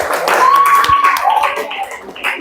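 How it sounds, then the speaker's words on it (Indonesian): Students in a classroom give a discussion group a round of applause, a short burst of brisk clapping from several pairs of hands, close and loud, with a voice briefly speaking over it. "Kita berikan aplaus untuk kelompok"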